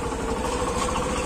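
A 2023 Hero Passion Xtec 110cc motorcycle with self start idles close by in a steady, even engine rumble that runs throughout with no break.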